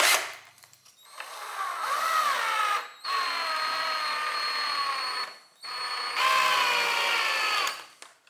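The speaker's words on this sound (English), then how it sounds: "So I used a small enough drill that it left enough wood there for it to grab." Power drill boring a hole into a wooden cabinet door under repair, whining in three long bursts with short pauses between them, loud and close with no talking.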